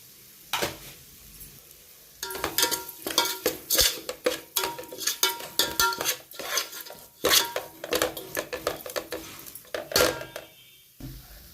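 A spoon scrapes and clanks against a pot as country chicken with chilli powder and chicken masala is sautéed, giving close, repeated metallic stirring strokes in an irregular rhythm with no talk.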